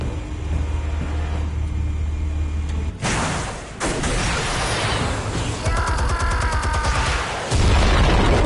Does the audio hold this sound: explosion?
yes